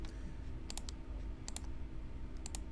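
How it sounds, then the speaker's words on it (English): A computer mouse clicks three times at roughly even intervals, sharp and close, over a constant low hum of room and computer noise. "I right mouse click, or first select"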